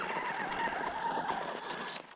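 A 2S nitro RC buggy runs at speed, its small engine giving a loud, steady high-pitched whine with tire scrabble for about two seconds before it cuts off abruptly.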